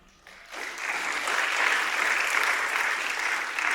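Conference audience bursts into applause after a quiet moment, the clapping swelling quickly into a steady, dense roar from a large crowd and holding without any talk.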